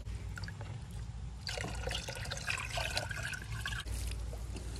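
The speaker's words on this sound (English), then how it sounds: "I'm going to go ahead and give this bed some water." Water pours steadily onto a small-space vegetable garden bed being prepped for fall and winter seedlings, a close, continuous splashing trickle that starts softly and grows fuller midway, with no voices.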